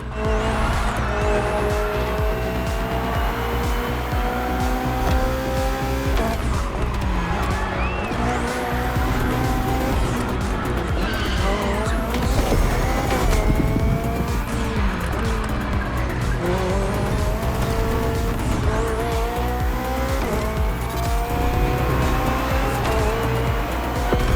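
BMW Hybrid V8 race car in The Crew Motorfest, a loud sustained engine roar with rising and falling gear pitch and steady tire squeal throughout, close and continuous with no voices.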